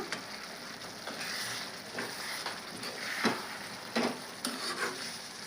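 Garlic pieces dropped into a hot pan while making amaranth leaf chutney, giving a steady close sizzle and frying hiss with a few soft stirring clatters and small sputters.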